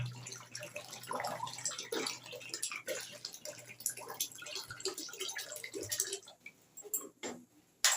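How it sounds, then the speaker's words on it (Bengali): Water poured into a pot of vegetable khichdi with rice and lentils: a faint, steady splashing pour lasting several seconds with low kitchen hum beneath, then it stops and quiet clinks follow. "আমি একবারে জলটা দিয়ে দিলাম যতটা জল আমার প্রয়োজন আছে"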